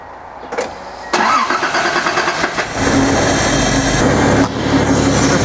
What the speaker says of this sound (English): a little test fire here, and we're gonna see if it fires up